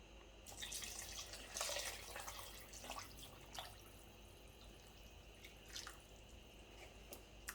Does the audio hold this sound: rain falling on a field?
no